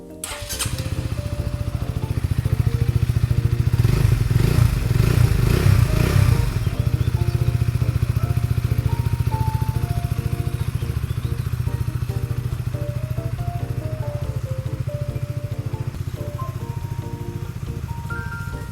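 A 2014 Honda CBR150R sport motorcycle fitted with an aftermarket exhaust idles steadily and close by, a continuous even engine note that briefly rises in a short rev early on before settling back to a smooth idle.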